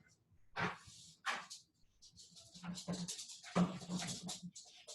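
A small dog whimpers and yips at a closed door, wanting to be let into the room; high, breathy whines come in short bursts, growing more insistent toward the end, with no talking.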